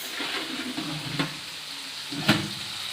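Chicken fry cooks in a pan with a constant close sizzle, broken by a couple of sharp stirring scrapes, with no voices.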